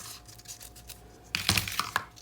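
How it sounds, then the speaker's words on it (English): Paper being cut for a onesie-themed baby album, layered translucent and gingham sheets: a quiet scratchy rub, then a sharper burst of snipping and tearing near the end, up close and with no talk. "And I'm just going to cut this off."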